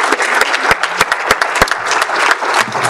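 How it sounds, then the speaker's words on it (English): Audience applause at a talk on solving child care, a room full of people clapping together in a steady, dense patter with a few sharp louder claps standing out near the listener. "Let's give a huge round of applause."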